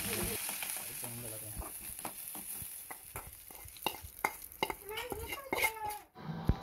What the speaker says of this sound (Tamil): கொஞ்சம் எண்ணெய் சேர்த்து கடுகு, உளுந்தம்பருப்பு, சீரகம் கொஞ்சம் சேர்த்து கருவேப்பிலை சேர்த்துக்கலாம்.